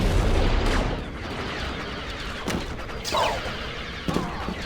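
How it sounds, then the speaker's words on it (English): Thermal detonators explode in the 2004–2005 Star Wars Battlefront games, several loud sharp blasts with rumbling tails in rapid irregular succession amid ongoing battle noise. "use thermal detonators to launch myself around the map"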